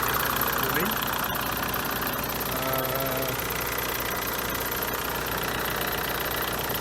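A car engine idles with its radiator cooling fan running, a steady mechanical hum and whir with faint irregular ticks throughout, while a person talks over it.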